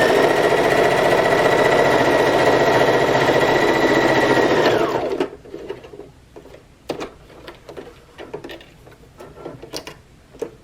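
A sewing machine runs steadily and loud for about five seconds while sewing a back stitch on a bag, then winds down and stops, followed by scattered soft clicks and handling noises.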